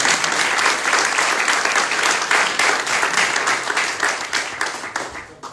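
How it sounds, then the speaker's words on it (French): A large audience applauds steadily after a contestant is named at a port wine sommelier selection competition, dense sustained clapping that slowly thins toward the end. "On peut l'applaudir quand même."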